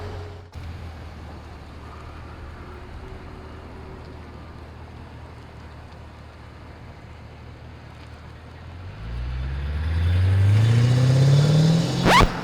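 A Mercedes SL500 R129 runs on downtown streets with a steady low engine hum, then revs up and accelerates, its pitch climbing toward the end.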